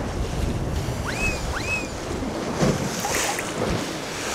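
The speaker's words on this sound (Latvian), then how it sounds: "tie viļņi ir tādi draudīgi." Sea waves rolling and washing along the shore during a herring fishing outing, a constant broad rush mixed with wind buffeting the microphone, with faint bird calls over it.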